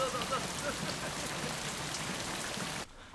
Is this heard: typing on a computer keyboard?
no